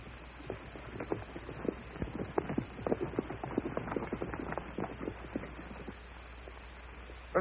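Horses in a 1941 Western film trotting on hard ground, hooves clip-clopping in a steady, busy rhythm at moderate distance over a low background hum.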